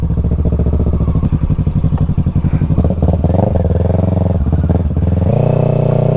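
A borrowed 650 motorcycle engine runs loud and close while being ridden in wheelies, with a steady rough drone that swells and shifts in pitch as the throttle changes.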